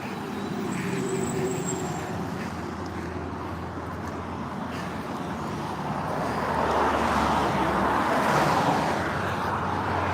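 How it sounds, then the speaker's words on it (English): Steady road traffic on a busy street, heard at evening from a footpath beside it, with a continuous low rumble of passing cars that swells louder toward the end as vehicles go by close. "So you can just see how much traffic's coming."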